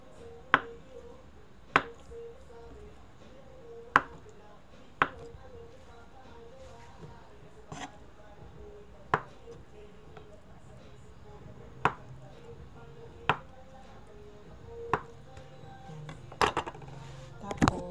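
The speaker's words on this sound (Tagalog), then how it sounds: "Ginayat ko lang siya ng ganyan pechay." Knife chopping pechay (bok choy) on a cutting board, about a dozen sharp, distinct strokes at a slow, slightly uneven pace with quick double cuts near the end, under a quiet kitchen background.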